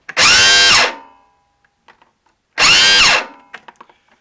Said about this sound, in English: the gear on the top of the starter motor stripped, so it can't turn over the motor